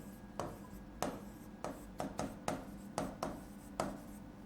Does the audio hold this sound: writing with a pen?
yes